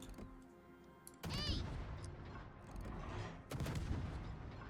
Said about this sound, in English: Put some shots downrange on this Nevsky.